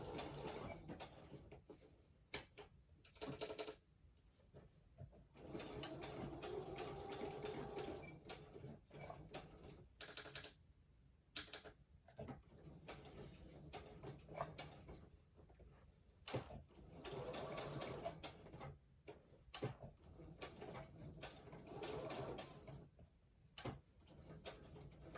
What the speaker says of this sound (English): little bit of crazy sewing